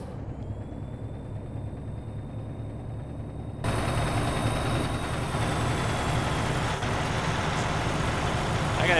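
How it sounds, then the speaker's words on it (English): Truck engine in American Truck Simulator, a steady low rumbling drone that jumps louder partway through and then holds a constant heavy roar, with no talking over it. "it's going to be hard for me to talk over the noise of the truck"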